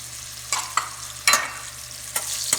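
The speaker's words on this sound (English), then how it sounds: "This is my whole masala which goes into this. I'm going to put into hot oil." Whole masala spices and cumin seeds sizzling in hot oil, a soft steady frying hiss punctuated by a few sharp crackles and stirring scrapes, close and with no voices.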